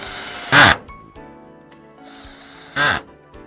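Screws driven into a greenhouse sidewall top plate, two short loud bursts of a power drill separated by quiet pauses with faint handling sounds.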